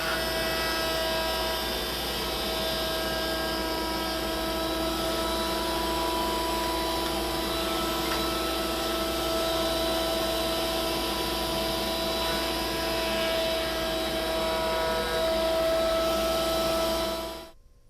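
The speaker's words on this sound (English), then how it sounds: "I'm going to do that on the router table" A steady, loud router-table roar with a high whine runs continuously while cutting wood for a bottle opener project, then cuts off at the end.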